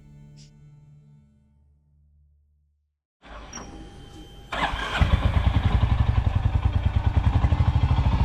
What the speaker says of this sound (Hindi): धीरे धीरे इंजन की आवाज उस खामोशी को तोड़ती है